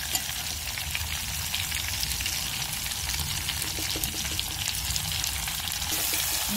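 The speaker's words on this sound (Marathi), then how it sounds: "आपण तेलामध्ये वांगे छान असे फ्राय करून घेऊ" Brinjal pieces frying in hot oil give a steady, close hissing sizzle with faint stirring and bubbling textures running throughout.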